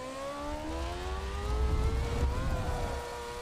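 Racing car engine in a sim racing video game, a steady high-pitched whine that climbs gradually as the car accelerates, loud and close with no talk over it.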